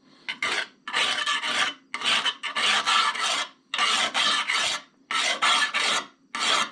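Scissors blade being sharpened against a metal sharpening surface, a dry rasping scrape in repeated strokes, each stroke roughly half a second to a second long with brief pauses between, close and fairly loud.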